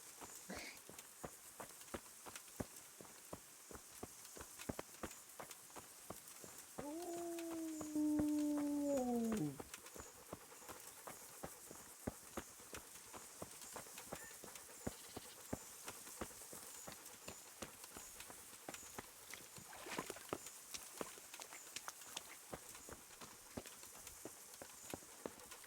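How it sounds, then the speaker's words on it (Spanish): Hooves of a horse in the medieval role-playing game Kingdom Come: Deliverance clip-clop in a steady walking rhythm on hard ground, moderately close, with a brief whinny in the middle. "ahí tenemos nuestro caballo"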